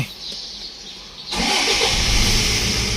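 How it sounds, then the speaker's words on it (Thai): A Toyota Vigo Champ pickup with an aftermarket Pioneer stereo starts: a short quiet lead-in, then the engine catches in one go and settles into a steady, fairly loud idle close by, with faint bird calls in the background. "ฟังเสียงเครื่องยนต์กันหน่อยนะครับ ว่าจะสตาร์ทติดง่ายไหม"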